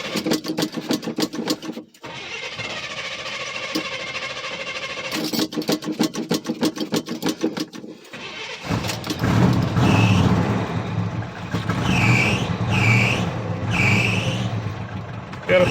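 A 1978 Chevy K20 Scottsdale pickup with a 400 cubic inch engine cranks over with a whirring starter, catches and roars into a rough, revving idle, with a squealing loose belt chirping up close.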